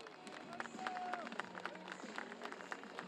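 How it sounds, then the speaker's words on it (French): A crowd applauds the top three finishers of a regional cyclo-cross race, a fairly faint, scattered clapping heard at a distance outdoors, mixed with crowd murmur and a few brief voices. "Merci de les applaudir tous les 3."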